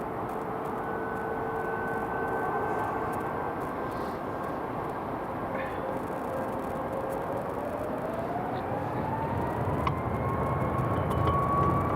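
A jet airplane departs from runway 24 at Edinburgh Airport with a broad, steady engine roar and a slowly rising whine. The sound is fairly distant, continuous and unchanging in loudness, with no voices.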